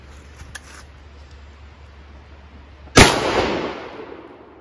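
A single loud, close shotgun blast fired with 3-inch shells while squirrel hunting outdoors, a sharp crack followed by a decaying rumble after a quiet stretch with faint clicks.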